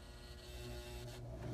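An AC-motor sewing machine runs steadily throughout, a continuous mechanical whir with a low hum underneath, close and moderately quiet, with no voices.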